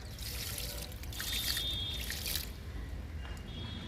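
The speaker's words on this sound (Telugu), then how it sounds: "నిమ్మ మొక్కకి ఇస్తున్నాను లిక్విడ్" Liquid fertilizer pours onto a lemon plant in a garden, a steady close trickle and splash of liquid with brief drips and surges, no talking.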